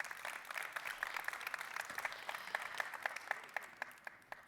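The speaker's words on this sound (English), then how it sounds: "Can I have a round of applause, please?" Audience applause at a summit presentation, steady clapping from a crowd for several seconds, moderately distant and even.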